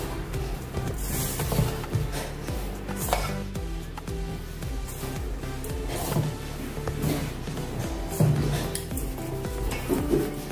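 Food being stirred and mixed in a pot, with steady scraping and clinking of a spoon against the metal sides and faint sizzling underneath, continuous and close throughout with no talking.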